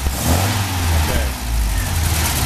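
An MGB engine fitted with a Weber DCOE carburettor and a long branch manifold revs up, close and loud, rising and falling in short throttle blips over a rough idle.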